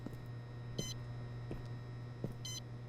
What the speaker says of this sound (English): I did hear just a beep.